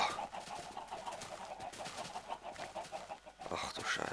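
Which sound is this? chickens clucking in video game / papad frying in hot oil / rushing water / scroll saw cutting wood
chickens clucking in video game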